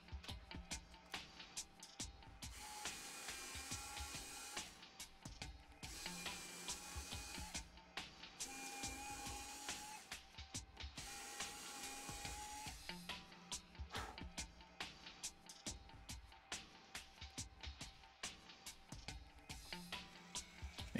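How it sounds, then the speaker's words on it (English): A small drill boring pilot holes with a 1/16 bit for servo mounts on a Seagull Models Yak-11 model airplane: a steady whirring motor in repeated runs of a few seconds each, close and alone. "So I'm doing a pilot hole with a 1/16 bit, and then I'll go to the 3/32 bit."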